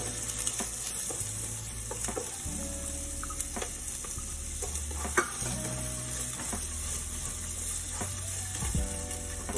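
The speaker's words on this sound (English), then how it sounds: "Let that saute." Finely diced onions sauteing in a pan, a dense continuous sizzle with occasional stirring clicks, close and steady with no one talking.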